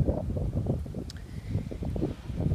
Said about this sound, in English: Hope that doesn't sound too windy over there.